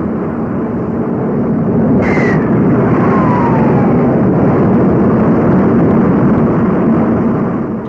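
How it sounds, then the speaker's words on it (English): Mercury-Redstone rocket carrying the Freedom 7 capsule blasts off at Cape Canaveral, Florida, heard as a loud, continuous roaring rumble with a brief tone burst partway through. "Alan Shepard becomes America's first space traveler, blasting off from Cape Canaveral, Florida."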